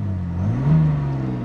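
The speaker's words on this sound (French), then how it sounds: "Il y a quand même un petit coup de gaz au démarrage, même si c'est un moteur diesel" The diesel engine of a 2018 BMW X5 M50d fires up with a short rev, a low idle hum rising briefly in pitch then settling to a steady drone, close by.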